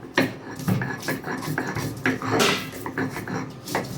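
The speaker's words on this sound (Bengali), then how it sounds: "সব কিছু দিয়ে সুন্দর করে বেটে নেবো এই পাট শাক দিয়ে" Black cumin, raw garlic and green chili ground together with jute leaves, repeated close scraping and knocking strokes of a grinder against a hard surface in an uneven rhythm, with a voice talking over it.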